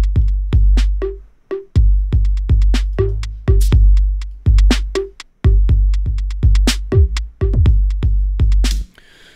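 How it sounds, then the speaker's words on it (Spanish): Drum rack beat built from a Thermionic Gold Baby sample pack: loud, punchy kicks and sharp snares and hats in a steady, repeating pattern, played alone with no voices. "Estos sonidos están escogidos de un pack que se llama Thermionic Gold Baby."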